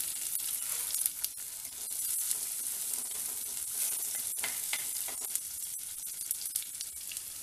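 Garlic, green chilli and onion sizzle in hot oil in a pan for garlic fried rice, a steady bright crackling hiss with occasional stirring scrapes, close and continuous with no talking.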